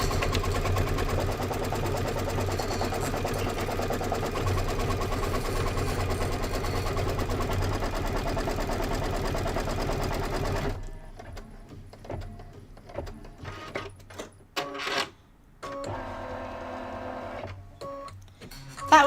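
A Kimberbell embroidery sewing machine stitches quilting on a border: a steady, loud mechanical whir with dense rapid needle vibration that runs continuously, then drops to quieter, intermittent motor sounds and short pauses.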